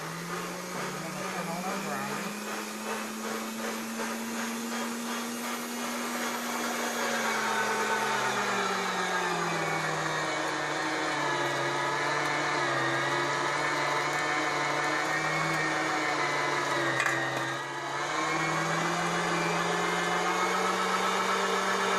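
A motorized meat grinder runs continuously while grinding homemade country sausage, giving a steady, fairly loud whirring drone whose pitch dips slightly as the load changes partway through.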